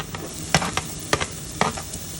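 Ginger tossed into garlic sizzling in a pan: a steady frying hiss with a few sharp spatula strokes and clacks against the pan, up close and without talk.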